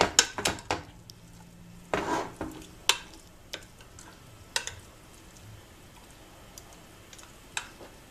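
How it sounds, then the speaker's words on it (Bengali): A spoon smooths hot bread halwa in a pan, making irregular close clinks and scrapes against the metal, some sharp and some faint, spread over eight seconds with no talking. "যেহেতু হালুয়াটা খুব গরম সেই জন্য আমি চামচ দিয়ে সমান করে নিচ্ছি"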